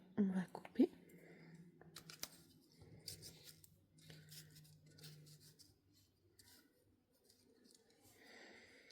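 Scissors snip through paper foliage in a few quiet, close cuts, with soft rustling of paper in between and a low voice talking at times.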